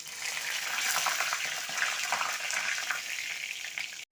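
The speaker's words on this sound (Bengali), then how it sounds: "আমি তার মধ্যে গোটা গরম মশলা ফোড়ন দিয়ে দেবো।" Whole garam masala, cumin seeds and bay leaf hit hot mustard oil, producing a loud, steady, close hiss that runs unbroken for about four seconds and then cuts off abruptly.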